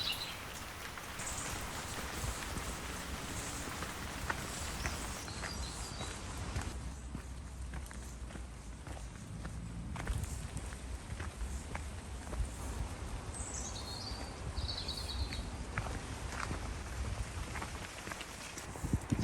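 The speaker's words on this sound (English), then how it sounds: "even though the rain's eased off a little bit" Light rain falls steadily outdoors in a soggy town, a soft continuous patter of drops with scattered taps on surfaces, faint and even throughout.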